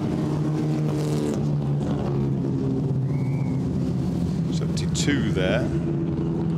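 A historic racing car, part of a Weslake Cup race, drives past on a circuit with a sustained engine roar, while a commentator talks over it.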